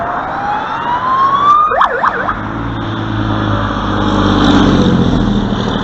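Fire truck siren wails upward, then breaks into a quick warbling yelp before giving way to a rumbling engine passing close by.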